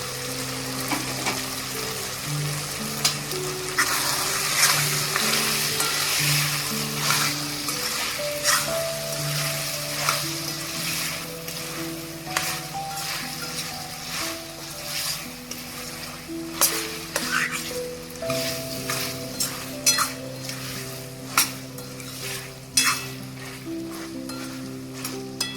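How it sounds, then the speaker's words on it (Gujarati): Potatoes fry in hot oil in a pan, a steady loud sizzle with scraping stirs and clinks running throughout, no talking. "હવે તેલમાં 2 મિનિટ બટેટા ચડી ગયા છે।"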